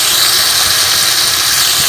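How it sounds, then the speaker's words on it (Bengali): Steamed taro stolons frying in hot mustard oil with black cumin, a loud, steady sizzle that hisses unbroken throughout at close range, with no voices. "লতিটা এবার হালকা ভেজে নেব।"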